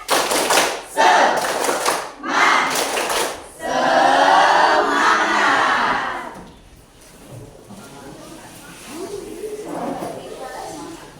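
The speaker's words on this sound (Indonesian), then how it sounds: "Tepuk semangat ya." A classroom of students stands and does a tepuk semangat spirit-clap chant: a run of sharp rhythmic clap bursts, then a loud unison shout-chant, trailing off into quieter voices.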